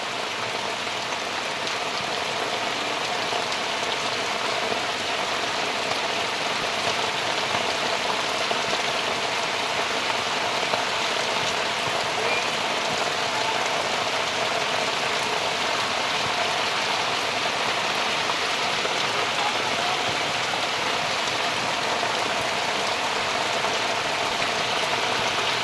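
Steady rain falling over a village farm plot, a soft, even hiss of drops that holds unchanged throughout, with no voices.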